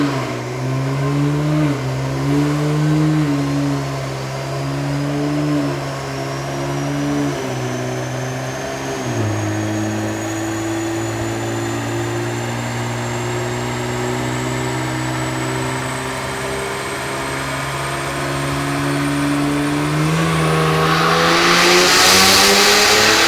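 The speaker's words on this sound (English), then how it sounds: "and now another dyno pull" Cadillac CT4-V Blackwing engine, tuned to over 700 wheel horsepower, revving on a dyno: a loud, steady drone climbing through gears with brief shift dips, building to a roaring rush at the end.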